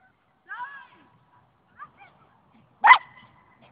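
A young Karakachan dog gives a few short, deep barks and yips, close and fairly quiet with pauses between, ending in one sharper bark.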